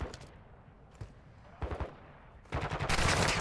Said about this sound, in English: these bots are shooting me like crazy